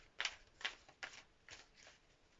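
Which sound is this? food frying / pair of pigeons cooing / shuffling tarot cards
shuffling tarot cards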